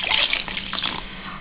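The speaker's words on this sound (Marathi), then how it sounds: "आता याच्यामध्ये पाणी घाला" Water pours into a bowl of pierced potatoes being prepared for pav bhaji, a soft splashing stream that runs briefly at moderate volume with no talk.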